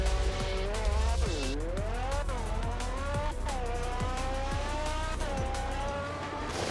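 A BMW M8 in a Roblox driving game, its engine note sweeping up and down through gear changes, with repeated sharp tire squeals and skids over a continuous loud engine drone, all fairly close.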